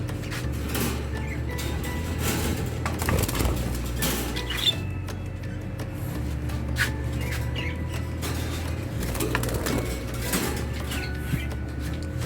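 Pet birds in a home coo and chirp continuously and close by, with steady low cooing and scattered higher calls, while soft food is prepared for them; no one speaks.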